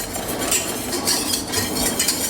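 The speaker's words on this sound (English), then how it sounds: "And we have to stir to melt it." Chopped semi-sweet chocolate being stirred in a pan to melt it off the heat, with a steady scraping and light clinking of a utensil against the pan throughout, close and even, with no voices.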